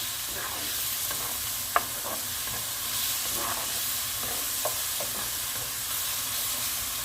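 Tomato paste fries and gets stirred in a pan while making vine leaf borani, with a steady hiss of sizzling and occasional spoon clicks and scrapes. No one speaks.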